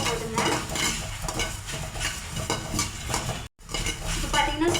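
Fennel seeds are dry-roasted in a pan and stirred continuously, producing a dense, close rattling scrape and light sizzle with one brief dropout.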